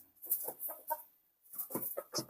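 Hens clucking in a home backyard coop with perches for the chickens, a few short bursts of clucks coming close and fairly loud, with brief pauses in between.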